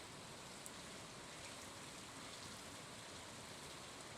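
Rain in a video game, an even, soft, continuous hiss of rainfall with no variation, faint and heard alone.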